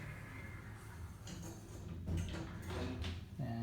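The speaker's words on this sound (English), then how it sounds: "Jump to the elevator before it's going to close the door." An elevator door sliding shut inside a university building, a faint, short mechanical slide and thump against a low background hum, close by and without speech.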